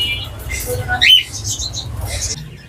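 A pet cockatiel lets out a sharp, shrill squawk, with faint chirps and low background murmur around it.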